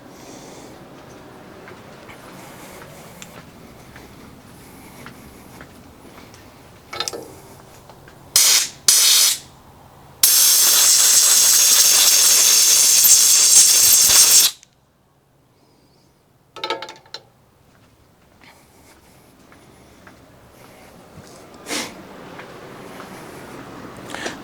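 Compressed air blasts into the check valve of a Walbro SDC-48 carburetor to clear out debris: a few short sharp hisses, then one loud sustained spray of about four seconds, followed by faint handling noises and brief puffs.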